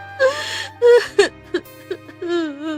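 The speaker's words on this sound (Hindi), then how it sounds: "तभी उसे किसी के रोने की आवाज आती है" A dramatized story sound effect of someone crying: a string of gasping, wailing sobs and whimpers in short broken bursts, close and clear with no other sound.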